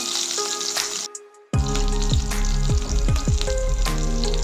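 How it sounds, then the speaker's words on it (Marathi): Green chillies hit a hot pan while being sautéed for aluchi bhaji, a colocasia leaf curry. After a brief hush, a loud, sustained sizzle and crackle starts, with stirring scrapes breaking through it. "छान परतून घ्यायचं."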